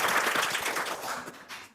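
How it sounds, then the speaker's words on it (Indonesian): A classroom audience claps for a presenting group, a short burst of dense applause that fades away within a couple of seconds. "Beri tepuk tangan untuk kelompok 1."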